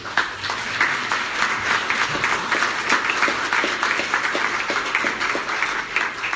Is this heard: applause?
yes